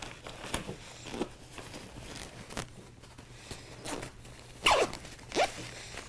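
A zipper on a camera backpack is pulled open in a few quick, raspy bursts, close by, with soft rustling and handling noise of the bag in between.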